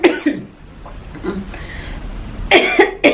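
Harsh, close coughing: a pair of coughs at the start, a quieter stretch with small throat sounds, then another burst of two or three coughs.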